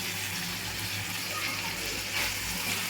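Fresh coriander and mint leaves fry in a pan while making chutney, giving a steady, even sizzle that holds without a break.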